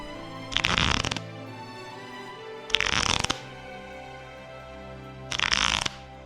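Three quick bursts of cards riffling through a deck, each about half a second, separated by quiet pauses with a faint hum underneath.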